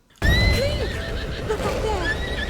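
Horse neighing and whinnying in Zelda: Breath of the Wild, a loud, clear whinny rising out of silence and trailing into snorts and soft hoof clops, with faint game ambience behind.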